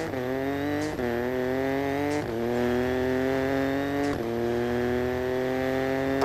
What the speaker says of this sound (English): Accelerate to the braking markers.